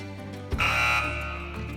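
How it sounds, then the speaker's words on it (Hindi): A contestant hits the buzzer on a televised religious quiz show, and a sharp electronic tone sounds suddenly and holds steadily for over a second over a low musical background. "इस बार मुस्तफ़ा मेघानी ने सबसे पहले बज किया है।"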